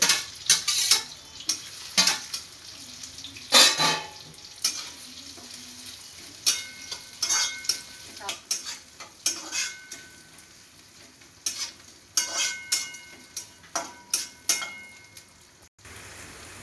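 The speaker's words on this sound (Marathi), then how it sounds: "हे आधी व्यवस्थित तमालपत्र तडतडलं त्यामध्ये मी कापलेला कांदा" Chopped onion frying with bay leaf in a pan for biryani, soft sizzling under repeated stirring scrapes and clinks of a utensil, close and fairly quiet, no talking.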